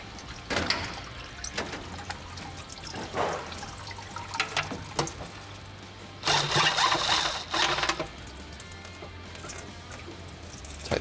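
Transmission fluid drains from the pan of a Nissan Patrol during a valve body job, splashing and trickling in uneven bursts with a heavier gush partway through, close and fairly loud amid workshop handling noises.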